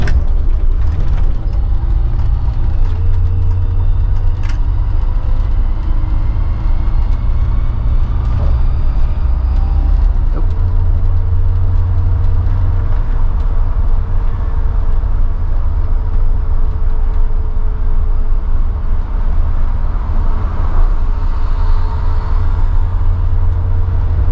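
A 1990 MCI 102C3 coach bus driving, its engine a loud steady low drone from inside the cab with shifting tones as it accelerates and a brief mechanical clunk.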